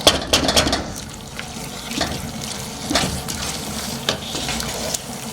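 Duck pieces sauté in a pan for curry, a steady close sizzle with wet crackles and scattered pops, faint and continuous with no talk.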